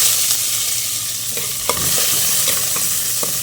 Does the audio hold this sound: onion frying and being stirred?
yes